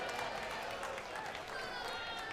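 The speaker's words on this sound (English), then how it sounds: "Come on, start clapping for him and give him a bit of support." Audience at the Balmoral Show blade sheep shearing competition clapping steadily for a shearer, a faint, sustained patter of applause from a crowd.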